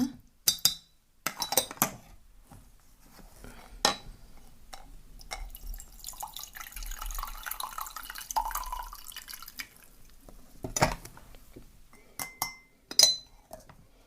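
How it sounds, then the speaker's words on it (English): A spoon stirs a cup of green tea, sounding as sharp metallic clinks against the glass in scattered bursts with soft liquid drips and quiet gaps between them, close and clear, with no talk. "let me just give this a stir"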